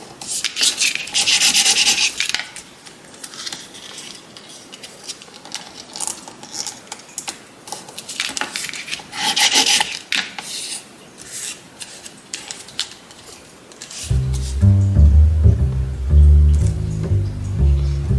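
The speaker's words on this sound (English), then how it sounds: "So we're just folding up our little tabs." Paper tabs folded and creased by hand to form a pocket for a mini folio, with repeated close rubbing and scraping strokes, then a brief clatter of handled items near the end.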